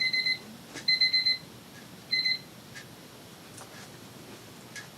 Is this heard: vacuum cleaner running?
no